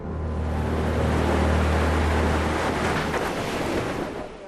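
Ocean waves from the Sumatra tsunami surging onto the tourist beaches of Thailand: a loud, steady rushing roar of churning water with wind buffeting, continuous throughout.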